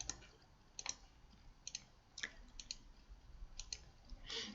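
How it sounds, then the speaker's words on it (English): Computer mouse buttons clicking in quick double-click pairs on a desk, crisp faint clicks spaced irregularly over a quiet background. "now I guess we need to double click the icons to switch the image"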